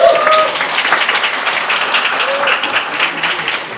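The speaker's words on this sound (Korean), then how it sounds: "우리 홍 교수님 위해서 다시 한번 박수 부탁드리겠습니다" Seminar audience applauding a professor at the close of a Korean stablecoin business talk, steady mid-level clapping across the room with some voices mixed in.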